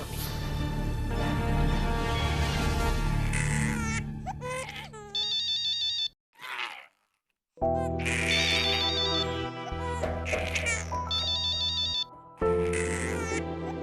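A phone ringtone plays in a repeating electronic melody with short pauses between rings, loud and close, over background music.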